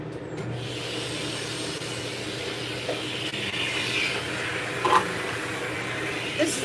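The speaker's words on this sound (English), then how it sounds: "Let's heat up the Salon dryer" A salon dryer blows on a dog during grooming, giving a steady, loud, broadband rush of air that holds throughout with a few faint clicks and rubbing noises on top.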